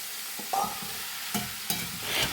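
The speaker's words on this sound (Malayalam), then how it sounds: "നന്നായിട്ട് ഇളക്കാം." Raw banana masala curry stirred in a frying pan with a steady sizzle beneath, a few distinct scrapes and knocks of the spoon against the pan rising over the frying.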